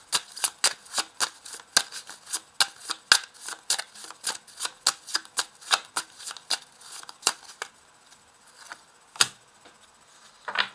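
Tarot cards being shuffled and drawn, a rapid series of crisp, close card snaps and flicks in an uneven rhythm that thins out toward the end with a final sharp slap.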